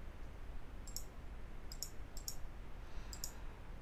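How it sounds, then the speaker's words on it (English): Four faint, crisp double clicks of a computer mouse being right-clicked during Photoshop work, spaced about a second apart over a steady low background hiss. "And right click on this"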